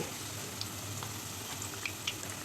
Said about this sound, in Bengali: হালকা আসে ভাজতে হবে বেশি আসে ভাজা যাবে না